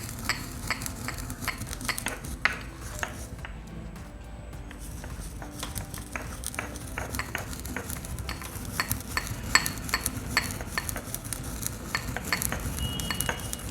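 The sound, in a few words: pounding a home remedy in a stone mortar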